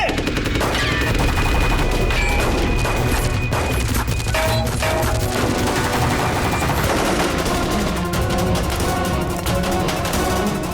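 Loud, dense gunfire in a police shootout, with sharp shots and bursts cracking almost continuously over a busy, cluttered soundtrack.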